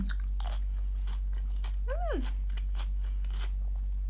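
Someone chews a crunchy shrimp snack close to the mic, with soft crunching bites over a steady low hum, and one brief rising-and-falling vocal murmur in the middle.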